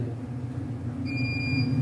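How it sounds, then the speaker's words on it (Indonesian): A 5,000-watt solar inverter's buzzer alarm sounds as the load nears its upper limit, a steady high-pitched electronic tone starting partway through over a constant low electrical hum. "Nah, buzzer berbunyi saat hampir menyentuh batasan atas."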